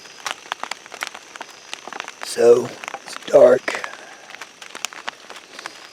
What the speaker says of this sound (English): It's just fog dripping off the trees.